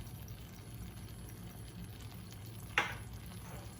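Turmeric, ginger and pepper being stirred into a veal and chickpea tajine, with a steady low sizzle and one brief scraping stir partway through, close and quiet, no voices.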